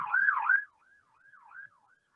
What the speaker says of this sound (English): Whenever a siren goes by and I'm saying something, it's important.